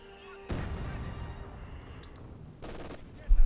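Machine gun fire in the Company of Heroes 2 strategy game, sustained bursts of rattling shots heard at a moderate distance amid battle noise.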